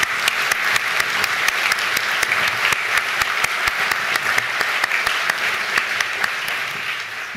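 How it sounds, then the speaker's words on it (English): An audience at a university graduation ceremony applauds for the student mentors with steady, dense clapping that carries on evenly and continuously throughout. "let's give a round of applause for the student mentors in the audience"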